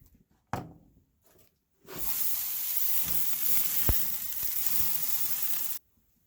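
Food hits a hot grill at an off-grid cabin and sizzles steadily for about four seconds, a loud continuous hiss with a couple of brief sharp pops, then stops abruptly, after a few quiet handling knocks.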